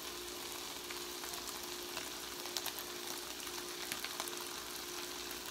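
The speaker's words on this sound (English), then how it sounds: "the onions and chicken cooking in here" Onions and chicken fry in a pan with a steady, soft hissing sizzle and faint crackles throughout, continuous and even with no voices.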